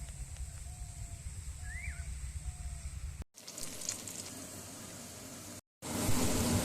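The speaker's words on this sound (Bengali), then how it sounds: "এখানে তেল পরে আমি এই মিশ্রণটাকে ভেজে নেব গোল গোল করে" Balls of spinach mixture fry in oil in a wok, giving a steady close sizzle and crackle that runs throughout, broken by two short cuts, with no talk.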